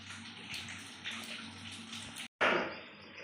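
Meat rinsed under running water in a home kitchen during curry prep, a steady broadband splash and pour that continues with a brief cutoff before resuming louder, close up with no talk.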